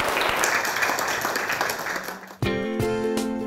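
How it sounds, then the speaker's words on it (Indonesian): An audience at a parliamentary class in Indonesia gives steady, dense applause for a couple of seconds, which gives way abruptly to loud music. "Tepuk tangan untuk kita semua."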